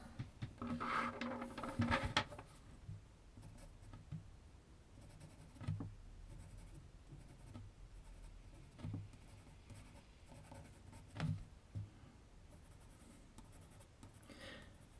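A sharp pencil scratches and strokes across paper while a girl's face is drawn and freckles are added, with quiet bursts of fine scratching, brief taps and short pauses, close and soft with no talking.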